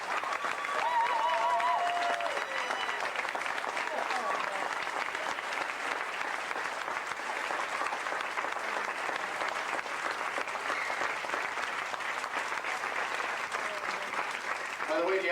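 An audience claps in sustained applause with a brief whistle near the start, the steady patter continuing evenly for several seconds at a moderate distance.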